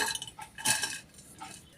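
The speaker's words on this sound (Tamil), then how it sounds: "ஸ்டவ் ஆன் பண்ணி பாத்திரம் வச்சாச்சு" A metal cooking pot clanks onto a stove, one sharp clink with a brief metallic rattle, close and fairly clear, in a home kitchen.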